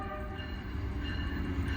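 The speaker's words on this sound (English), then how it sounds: "So we have a goods train." A goods train rolls past on a regional line at Toodyay, Western Australia, a steady, loud rumble of wagons with a continuous low roar throughout.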